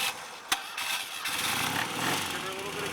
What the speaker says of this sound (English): Give her a little bit of gas, and she fires right up.